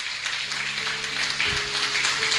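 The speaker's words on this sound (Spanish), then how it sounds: "Dale fuertes palmas al Señor." Congregation in church applauding, a steady wash of many hands clapping together, fairly loud and continuous, with faint background tones underneath.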